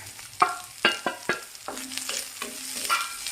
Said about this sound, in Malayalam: സവാള വഴന്നു കഴിഞ്ഞ് അതിലേക്ക് നമുക്ക് ഈ വറുത്ത് വെച്ച വെണ്ടക്കായ ഇട്ട് കൊടുക്കാം